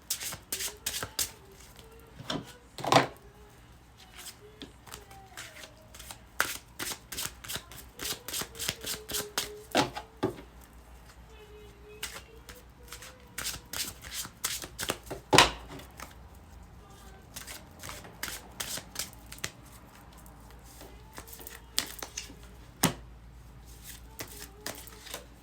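Tarot cards are shuffled and pulled by hand at close range, giving repeated crisp riffling and slapping clicks in irregular bursts, with soft voices here and there.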